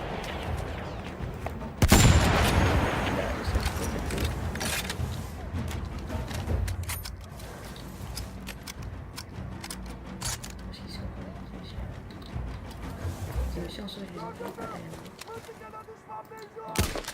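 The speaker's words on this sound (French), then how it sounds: "Mais c'est du tir mortier. C'est genre les mortiers tout petits." Small mortar fire in the World War I shooter Battlefield 1, a sharp blast followed by scattered distant booms and gunfire that fade into game ambience, with people chatting over it.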